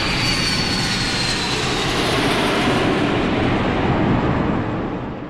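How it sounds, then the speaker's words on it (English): A jet airliner taking off in the movie Home Alone, a loud, steady roar of engines filling the whole clip before fading sharply at the end. "when they cut to the plane taking off, the plane landing, the another plane"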